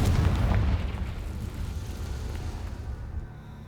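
An explosion from the Confringo fire spell in the video game Hogwarts Legacy: one loud, close boom that settles into a fading rumble over a few seconds.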